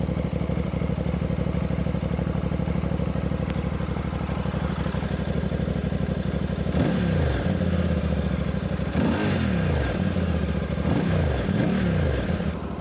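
A Voge motorcycle with its stock exhaust idles with a low throbbing note, then the engine is revved three times in quick bursts, each rising and falling back to idle.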